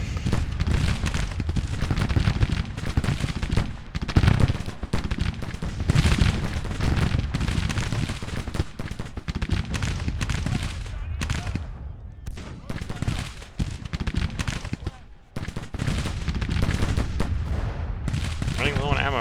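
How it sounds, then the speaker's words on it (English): Heavy Civil War battle gunfire in Grand Tactician, with artillery booms and crackling volleys loud and nearly unbroken, thinning for a few short gaps, while someone occasionally speaks over the din. "The artillery have been wailing away so hard"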